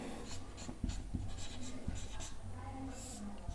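Pen scratches quietly and steadily across a surface while working out a school maths problem, with soft taps and strokes over a faint, constant background hiss.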